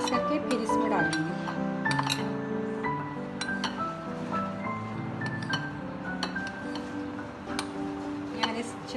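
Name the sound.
spoon mixing baking powder into flour in bowl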